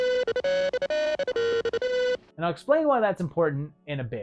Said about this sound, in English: The agency phone sounds like this